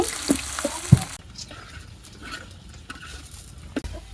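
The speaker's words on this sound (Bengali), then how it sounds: "কড়াইতে তেল দিয়ে দিলাম তেল গরম হয়ে গেছে রসুন কুচি দিয়ে দিলাম পেঁয়াজ কুচি দিয়ে দিলাম" Chopped garlic and onion hit hot oil in a kadai, bursting into a loud crackling sizzle that settles into a softer, steady fry under scraping stirs.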